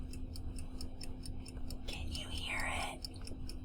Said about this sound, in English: this is a 60-minute magnetic mechanical visual countdown timer. And so look at that. Look at that. Oh, and it ticks.